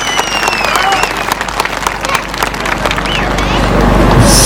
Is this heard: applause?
yes